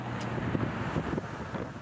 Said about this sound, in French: Des pluies diluviennes et beaucoup de vent